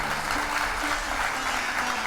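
Dense, steady audience applause at a Hindu devotional discourse (pravachan), a continuous wash of many hands clapping without pause or voices on top.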